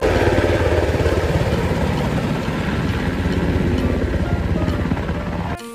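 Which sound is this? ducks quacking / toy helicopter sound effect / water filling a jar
toy helicopter sound effect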